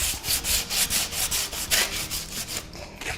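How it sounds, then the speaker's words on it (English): Rhythmic back-and-forth rasping of wood being sanded by hand, steady strokes close up, with no voices. "When you are sanding, it's always best to go with the grain of the wood."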